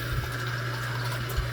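Tap water runs steadily into a sink as a rinse is prepared, a constant close hiss with a low hum beneath and no talking.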